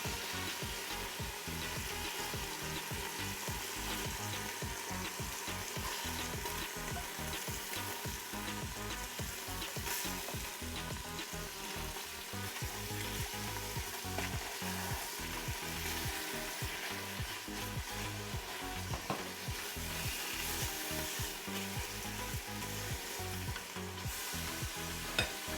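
Pork carnitas browning in oil inside a Ninja Foodi, giving a steady, close sizzle and crackle of frying meat that runs without a break from start to finish, with no talking.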